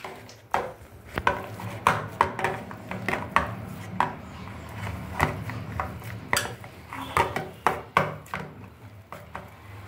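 Mashed potato and pea kebab mixture being worked together in a pot gives repeated knocks and scrapes of a utensil against metal, irregular and fairly close, with no voices.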